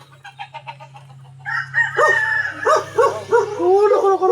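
A rooster crows loudly and close by in a rural yard with a few drawn-out calls, while a dog barks and yips, and steady hum sits underneath.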